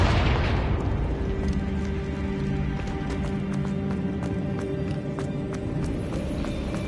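A Confringo blasting spell explodes in Hogwarts Legacy, a loud deep boom at the start that settles into a long rumbling roar with scattered crackling debris and steady tonal hum, filling the whole stretch.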